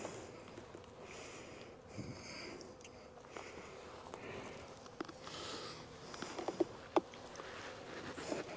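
Honey bees at an open hive during a winter inspection give off a faint, steady buzz, broken by soft clicks and taps from handling the frames.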